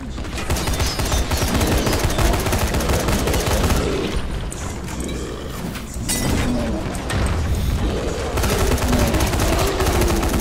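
A police firearm fired continuously in Dying Light, PC co-op play against zombies: a dense, rapid stream of loud gunshots with mechanical clatter runs nearly the whole ten seconds, thinning briefly around the middle before resuming.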